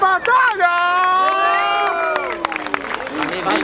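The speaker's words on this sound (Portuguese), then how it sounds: "Palmas pra essa batalha!" A crowd at a Brazilian street rap battle in Barueri, São Paulo, erupts in loud shouting and cheering with some clapping, raised voices ringing out above the noise.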